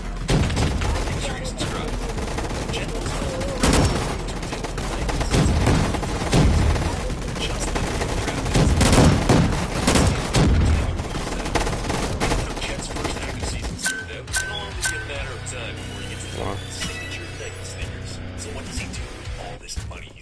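AK-47 gunfire rattles in rapid, irregular bursts for most of the stretch, loud and close, with a voice talking over it, before the shooting thins out toward the end.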